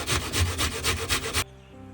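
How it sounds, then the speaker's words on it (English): Blanched broccoli rasps against a kitchen grater in about eight quick, rhythmic strokes, close and fairly soft, then stops abruptly into near silence. "I'm just going to grate it finely using a grater."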